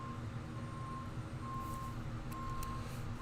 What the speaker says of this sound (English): do you hear the big truck backing down?